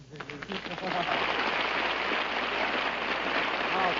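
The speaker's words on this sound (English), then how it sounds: "Please, no applause, no applause." Studio audience at a live radio variety show breaks into loud, sustained applause, rising quickly and holding as a dense wash of clapping for several seconds.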